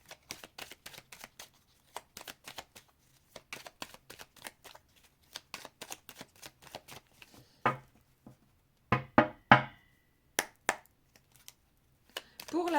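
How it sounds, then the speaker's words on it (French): A deck of oracle cards being shuffled close by, with repeated quick riffling flicks and crisp slaps in uneven bursts, fairly quiet and with no talking. "On va mélanger. On prend les mêmes cartes que pour la tierce."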